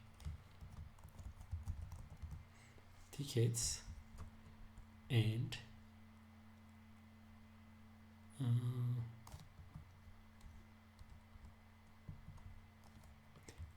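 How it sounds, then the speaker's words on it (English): Typing on a computer keyboard while coding a Laravel PHP project: a few quiet, scattered clusters of key clicks over a low background hum, with a voice speaking faintly. "I'm sorry, my keyboard could be jumpy."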